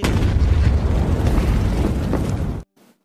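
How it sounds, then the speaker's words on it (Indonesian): A loud, sustained explosive roar of a landmine detonating, with heavy low rumble, lasting a couple of seconds before cutting off abruptly to near silence. "saat melakukan uji coba, ranjau pun meledak"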